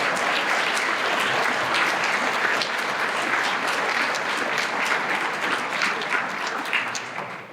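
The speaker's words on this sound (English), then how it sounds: "And then the last round of applause goes to each and every one of you graduates tonight." An audience at a senior awards night gives graduates a long round of applause, a dense, steady crowd clapping that fades slightly at the end, with no talking over it.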